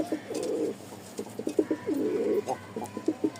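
Domestic pigeons cooing close by, soft rhythmic rolling coos repeating in short clustered phrases over faint background noise.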